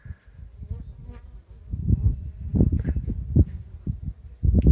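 Bees from a swarm buzz close around a paper mache swarm trap, a dense and fluctuating hum with individual insects swelling louder as they pass near.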